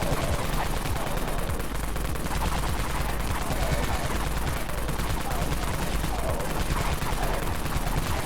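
The Dawn Mag gun in the game Dead Frontier fires in a continuous, rapid burst of loud, dense gunfire that holds steady for several seconds.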